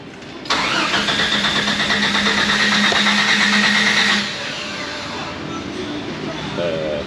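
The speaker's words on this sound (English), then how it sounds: "Begin engine starting sequence now." A 1995 Jeep Wrangler 4.0 engine cranks with a steady whirring starter for several seconds, then stops without catching; a quieter hum and faint talk follow.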